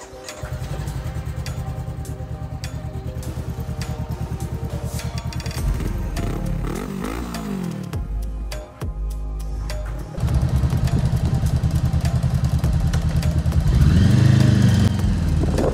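A Honda CBR500R sports motorcycle rides past close up, its parallel-twin engine humming steadily and then revving up and down through gear changes, loud and continuous throughout.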